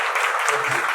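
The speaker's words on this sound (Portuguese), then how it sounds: "aproveito para pedir a vocês uma salva de palmas para os nossos agentes locais de inovação" Brief burst of steady audience applause after a lecture on productivity indicators, continuous and fairly loud with no break, a faint voice underneath.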